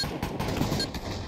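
Gunfire in the VR shooter game Pavlov VR during a team match, a dense, loud stretch of rapid overlapping shots with no clear gaps between them.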